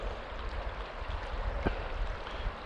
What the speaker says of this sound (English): There's little surges of water coming down.